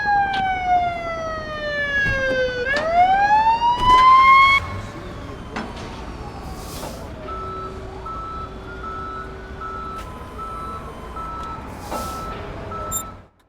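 Tow truck wrecker in the video game Police Simulator: Patrol Officers: a siren sweeps down and up, then steady electronic reversing beeps repeat over a low engine rumble.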